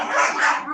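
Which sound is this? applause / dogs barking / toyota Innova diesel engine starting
dogs barking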